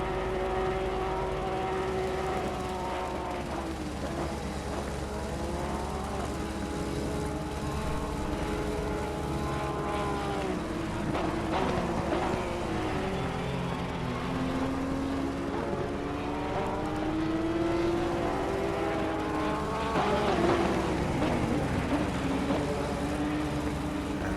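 Porsche Sprint Cup race cars passing at Spa, a steady loud engine drone with pitch rising and falling as cars sweep by one after another, continuous through the whole stretch.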